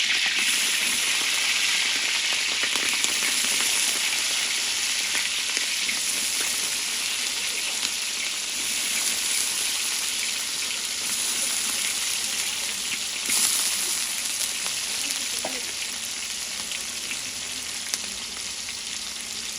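Chopped small onions and green chillies fry in hot oil, producing a loud, continuous hissing sizzle that holds steady for the whole stretch without voices.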